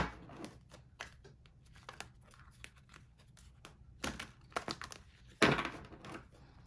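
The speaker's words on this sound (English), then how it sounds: "I'm going to give this a bit of a shuffle." Tarot cards shuffled by hand for a new moon card reading, a soft run of crisp riffling and papery slaps in quick uneven bursts, close by and fairly quiet, with one louder flurry near the end.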